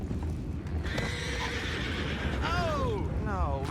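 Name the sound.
horse neighing in video game Red Dead Redemption 2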